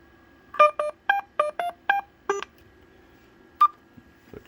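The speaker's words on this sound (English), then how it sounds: "Just flip it over to Roger beep." A quick string of electronic tone bursts from a CB radio roger beep chirps in a rapid melodic sequence, followed after a pause by a single short beep, clear over faint static hiss.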